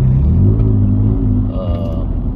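A Toyota Tacoma fitted with an MBRP Armor Lite dual exhaust gives a loud, deep, close rumble that dips briefly as the revs fall in a short burst.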